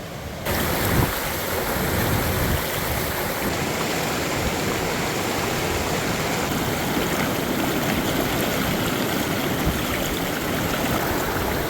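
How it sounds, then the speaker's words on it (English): A river on the Pacific Crest Trail rushes steadily and close by, a broad continuous wash of flowing water with a faint breezy hiss, holding constant for the whole stretch with no voices. "I'm rewarded with this beautiful river."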